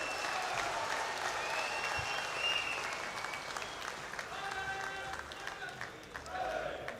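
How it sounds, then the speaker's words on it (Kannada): Loud audience applause and clapping at a public event in Karnataka, a dense steady wash of hands filling the whole stretch, with some indistinct voices mixed in. "ಜೋರಾದ ಚಪ್ಪಾಳೆ."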